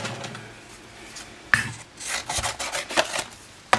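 A paper trimmer slices cardstock in close, short scraping strokes, with a few sharp clicks and rubbing sounds between cuts.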